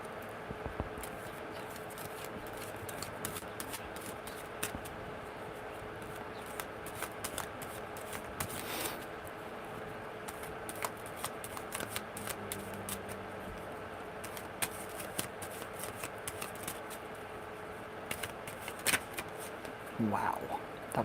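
Tarot cards being shuffled produce a steady, close stream of soft riffling and papery patter that runs unbroken for about twenty seconds at a quiet level, with occasional sharper card snaps.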